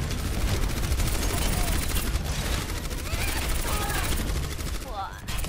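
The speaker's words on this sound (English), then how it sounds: "Even if I only fire one shot, it fires two bullets." A gun in Overwatch that fires two bullets per shot, rattling off rapid bursts in a loud, dense barrage of game combat noise that runs for several seconds and thins slightly at the end.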